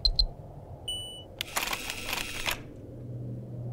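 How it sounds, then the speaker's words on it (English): Electronic beeps from a locker in the visual novel game CHAOS;HEAD NOAH: two short high chirps, then a sustained tone, then a roughly one-second burst of mechanical noise as the lock releases, all fairly quiet. "With an electronic beep, the sound of a lock releasing came from the locker."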